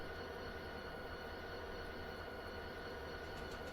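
A New Jersey Transit train rumbles steadily past in the rail yard of the video game Train Simulator 2020, a faint, continuous roar of wheels on track with no break.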